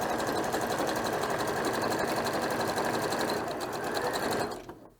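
A sewing machine runs steadily and loudly, stitching a reusable scrubbing pad with a short back stitch at the end, then winds down and stops just before the close.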